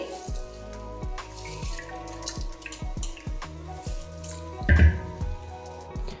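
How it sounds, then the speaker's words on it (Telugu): Soaked rice slides and patters into chicken biryani masala in a pot, a steady run of soft wet drips and squishy plops, with one louder splash of grains near the end. "ఇప్పుడు మనం ఇందులో ముందుగా నానబెట్టుకున్నటువంటి రైస్ని అయితే యాడ్ చేస్తున్నానండి."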